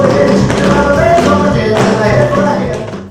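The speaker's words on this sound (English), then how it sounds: "That's the sound of tap dancing to us" Fast tap dancing footwork from a championship-level young dancer, loud and close, with crisp rapid taps tumbling in quick rhythmic runs before trailing off at the end.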